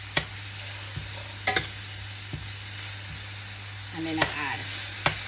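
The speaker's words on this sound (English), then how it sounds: "I'm going to start adding my pap chow, and I add it a small portion at a time. And I just stir it around in the pot." Pak choi sizzles steadily in a hot pot while a utensil stirs and scrapes against the sides in scattered knocks, and a voice speaks briefly once.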